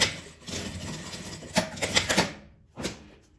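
A sewing machine stitches along the side of a zipper on a fabric scrap keychain coin purse, giving short bursts of rapid mechanical needle clatter with brief pauses between runs, close and moderately loud, with no talk.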